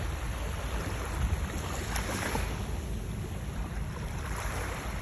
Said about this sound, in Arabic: صباح الموج، صباح البحر.